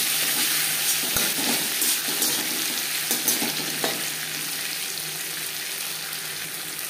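Ginger and green chilli paste frying with bay leaf in hot oil: a dense, even sizzle with a few faint stirring knocks early on, close up, with no voices.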